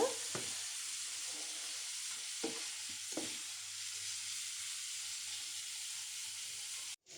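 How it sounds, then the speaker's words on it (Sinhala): A grated beetroot mixture being stirred in a pan, a soft continuous sizzle-like hiss with a few dull scrapes of the spoon, quiet and close with no speech. "අපි හොඳට කලවම් කරගන්න ඕන මේක"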